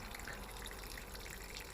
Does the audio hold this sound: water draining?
yes